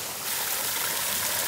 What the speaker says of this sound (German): Schöner Wasserfall.